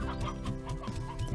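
Chickens raining down in the video game Slime Rancher, clucking steadily and densely over a thick game backdrop, several birds overlapping throughout.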